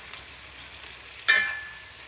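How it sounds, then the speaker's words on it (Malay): Fish fries in a pan with a soft, steady sizzle, broken by one sharp burst of crackling spatter partway through that slowly dies back down, heard close with no talking. "kita goreng ikan goreng"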